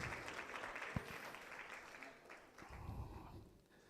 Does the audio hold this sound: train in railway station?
no